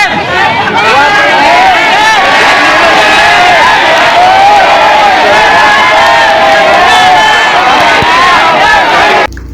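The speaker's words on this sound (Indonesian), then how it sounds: "kita mendengar sorak-sorai teriakan dukungan warga Bogor" A large crowd of Bogor residents cheering and shouting in support, loud and continuous, with many overlapping voices yelling and whooping close by.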